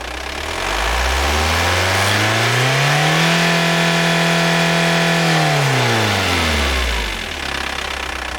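A diesel car engine revs during an emission test as the accelerator is pressed. It climbs smoothly from idle to a high sustained rev, holds there, then falls back to idle. The engine is loud and close, with no voices.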